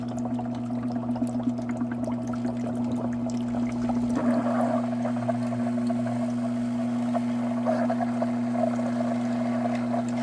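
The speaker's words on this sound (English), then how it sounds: "off we gurgle" Water gurgles and pours steadily through a Navien NPE-240S2 condensing tankless water heater during a descaling flush, with a constant pump hum underneath and irregular bubbling swells for about ten seconds, no talk.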